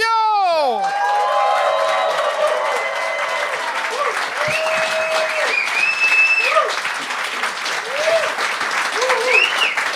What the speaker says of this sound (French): Un tonnerre d'applaudissements pour Jean-Sébastien Dion!